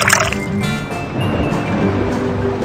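Milk poured into a bowl in an ice cream cooking video game, a short liquid filling and gurgling effect, close and clear, with no talking.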